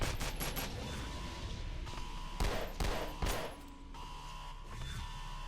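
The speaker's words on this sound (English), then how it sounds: "That gun also sounds really cool." Gunfire in the video game Space Station 14, several sharp shots in quick bursts over a busy game background, fairly quiet overall.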